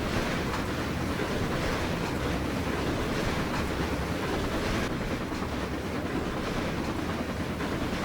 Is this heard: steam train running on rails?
yes